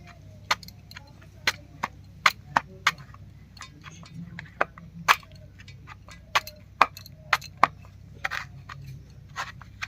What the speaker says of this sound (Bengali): এবার একটা কাঁটা চামচ দিয়ে কচুর মধ্যে একটু ফুটো ফুটো করে নেবে